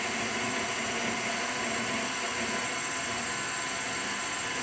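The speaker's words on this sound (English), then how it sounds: "you're going to take it over to our mixer behind us and have an adult help you mix it around" A kitchen stand mixer works pizza dough with a steady, even motor whir, constant and moderately loud for the whole stretch without a break.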